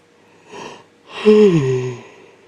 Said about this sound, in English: you're going to be hearing me yawning quite a while.